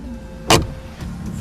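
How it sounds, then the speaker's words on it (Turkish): A car handbrake is yanked up in one sharp ratcheting crunch, brief and close, against a quiet interior hum. "Kavganın hemen öncesinde çekilen el freni sesi gibi ses"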